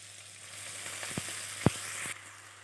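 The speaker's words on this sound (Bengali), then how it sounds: "চিংড়ি মাছটা বেশি ভাজবো না, অল্প নেড়ে চেড়ে এবার এখানে আমি দিয়ে দেব পুঁই শাক" Shrimp sizzles in a pan of hot oil with a steady hiss, while a few light scraping and tapping stirs sound over the frying before the sizzle drops off near the end.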